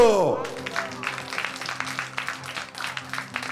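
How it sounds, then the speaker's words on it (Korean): A church congregation claps in celebration after a sermon point about rebuilding Jerusalem's walls, a brief tonal swell at the start giving way to steady, fairly close scattered clapping with voices mixed in. "박수!"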